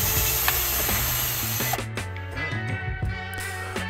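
A power driver backs 7mm screws out of a Jeep Wrangler dash panel, a close, loud whir that drops into rapid clicking, ratcheting pulses partway through.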